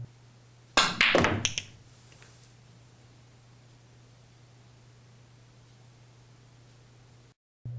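A pool cue strikes the cue ball for a draw shot, producing a sharp crack followed by quick clicks of balls colliding, then a long quiet stretch with a low steady hum.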